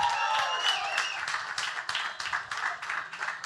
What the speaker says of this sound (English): Big round of applause to everybody who sold.